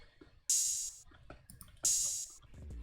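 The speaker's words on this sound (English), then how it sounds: "Then I added this sizzle open hi-hat" Two bright, sizzling open hi-hat hits ring out and decay, spaced over a soft background of light percussion ticks.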